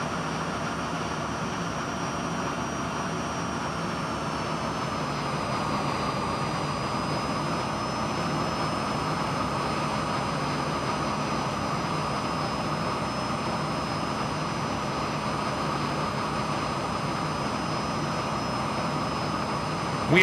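Aermacchi MB-339 jet trainer in Flight Simulator 2020 during a wingover: a steady, loud jet engine drone with a thin high whine, holding constant for about twenty seconds with no talk.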